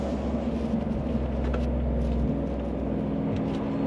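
A 2020 Ford F150 Lariat truck's engine droning steadily from inside the cab, a loud continuous low rumble that holds even with a slight shift partway through.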